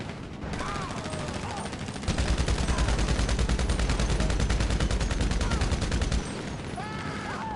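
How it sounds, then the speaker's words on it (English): Rapid bursts of assault rifle fire ring out during a GTA Online match, a dense loud fusillade of automatic shots lasting several seconds before dropping back to quieter game ambience with faint chirping effects. "Yeah, it's a pretty decent assault rifle."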